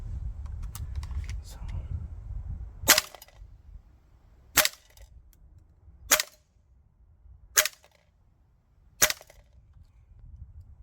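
Well Pro PPK20 gas blowback airsoft pistol firing green gas with 0.25 gram BBs: five sharp, separate cracks about one and a half seconds apart, preceded by handling clicks and low background rumble.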